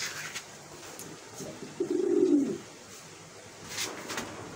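A pigeon gives a single low, soft coo, close by, with faint background noise around it at a bird sale in Bangladesh.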